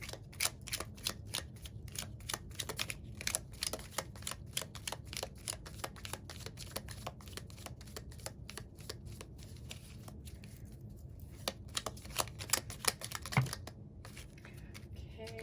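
Tarot cards being shuffled and handled during a pick-a-card reading, a long run of crisp, rapid clicking card flicks and riffles, close and fairly quiet, without speech.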